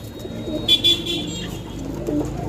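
Pigeons kept in a bird market coo softly in short bursts near the microphone, with faint traffic and a distant car horn in the background.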